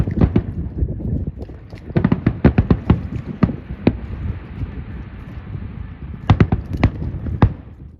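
Fireworks burst at night over St. Michael's harbor, heard from a sailboat: sharp, loud pops come in quick clusters, pause, then come again in a second volley over a steady wind-and-water background.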